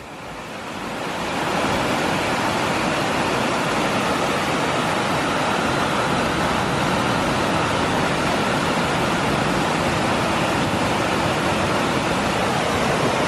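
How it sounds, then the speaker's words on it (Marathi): Water rushes steadily from a natural spring along the Isapur Dam right-bank canal, a dense, loud, unbroken roar that swells in over the first two seconds and then holds constant, with no talking. "आणि हे पाणी बघा किती छान प्रकारे वाहू राहिलं."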